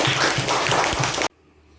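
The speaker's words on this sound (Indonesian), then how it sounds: "Tepuk tangannya untuk Ardi." Students in an Indonesian classroom clap for a classmate, a loud, dense burst of many hands close by that cuts off abruptly into near silence.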